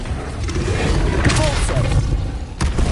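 Depulso force spell cast during combat in Hogwarts Legacy, a loud booming blast with thuds and a rumbling roar amid game effects.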